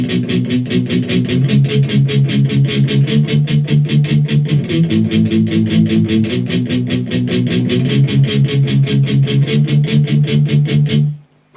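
Electric guitar plays the verse of a song with steady, evenly spaced power-chord strums in a fast driving rhythm, loud and close, alone until it stops abruptly near the end.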